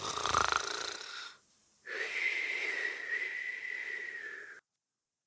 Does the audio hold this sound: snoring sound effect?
yes